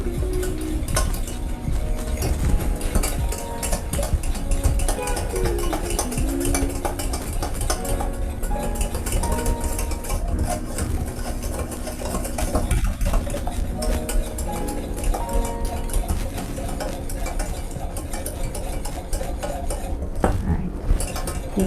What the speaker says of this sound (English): Then we have to put it in a low heat and continue whisking it all the time.